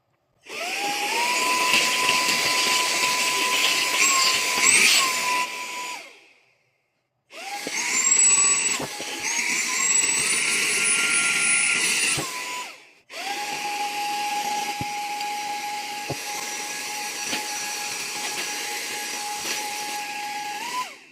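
A small multifunction car and home vacuum cleaner runs on suction in three long stretches, a steady high-pitched motor whine close by with brief pauses between, no voices.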